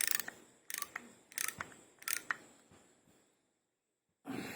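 A socket wrench ratchets in a few quick bursts of clicking while tightening the gauge onto a 5.5-inch receiver assembly. The clicks come close and distinct, followed by a brief silence and a final clatter.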